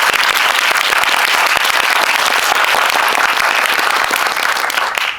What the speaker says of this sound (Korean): 재밌게 보셨으면 큰 박수 부탁드립니다